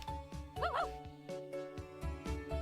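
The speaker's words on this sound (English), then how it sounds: "barks in response to Deli's outburst" Dog barking in the video game Code: Realize, a series of short close yips and barks with a whiny rising-falling whimper, in quick uneven rhythm over a quiet musical background.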